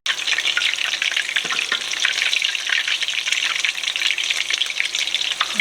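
Meatballs browning in a pan, turned with a fork and a spoon, give a steady dense sizzle with scattered small clicks of utensils against the pan throughout.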